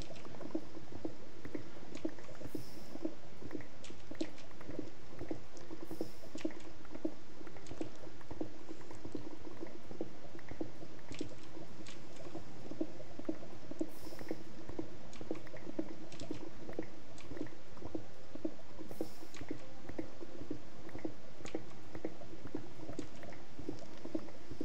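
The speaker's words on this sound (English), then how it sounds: "Such a pretty lava waterfall." A lava waterfall in a Minecraft modpack pours and bubbles continuously, with thick gurgling, popping and sloshing that holds steady throughout, close and fairly loud, with faint higher pings over the top.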